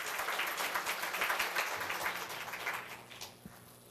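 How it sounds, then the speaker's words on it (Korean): Applause at a Korea University labor culture awards ceremony as a recipient takes the stage, a full round of clapping that gradually fades toward the end. "네, 큰 박수 부탁드리겠습니다"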